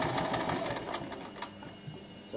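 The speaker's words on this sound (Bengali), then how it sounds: "এই যে ডাবল বলতে আমি লক করে দিচ্ছি যাতে ওই জায়গাটা ছুটে না আসে। লক সেলাই দিয়ে নিলাম।" A sewing machine runs a rapid, steady burst of lock stitches doubling back over a seam in a tailoring class, a close mechanical rattle that slows and stops near the end.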